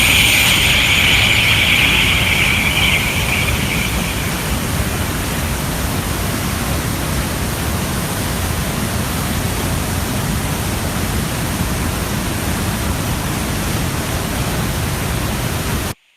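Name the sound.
roaring waterfall at Trummelbach Falls, Switzerland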